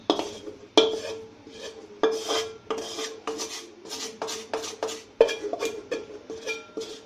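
A spoon scrapes and clinks against a metal pan while kalakand mixture is stirred, giving irregular bursts of scraping with sharp metallic knocks. It is close and clear, with no talk.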